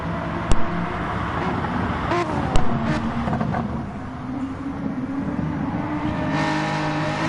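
GT4 race car engines droning in a sim racing game, a steady sustained engine note with shifting pitch, a couple of sharp clicks and faint gear changes layered over continuous track noise.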